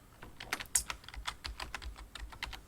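Someone types on a computer keyboard while filling in a document, a close, irregular run of light key clicks with brief pauses and a few harder taps, with no voices.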